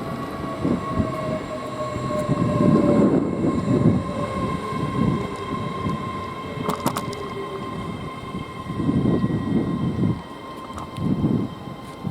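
Class 800 unit 800 020 arriving from Cheltenham Spa at Didcot Parkway, a rumbling approach with a steady high whine, surging waves of wheel noise and a few sharp clanks as it draws into the platform, no speech.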